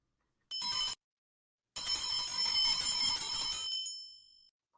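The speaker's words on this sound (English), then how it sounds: "I should have rang my bell" A bright bell rings twice: a quick short ring, then a pause and a longer, sustained ring that fades away.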